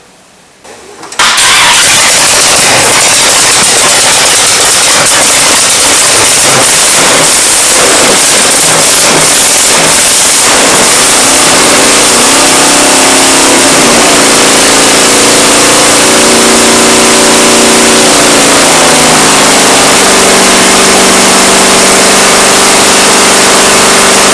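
A Chevy 350 engine with an Edelbrock carburetor and the air cleaner off fires up after a brief crank and runs very loud and close, with rough surges and popping backfires before settling into a steady, throaty idle.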